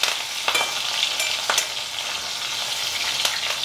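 Small bitter gourds sizzle steadily in a pan with curry leaves, a dense continuous frying hiss broken by a few sharp crackles and stirring scrapes, close and fairly loud with no voices.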